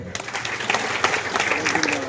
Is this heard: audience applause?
yes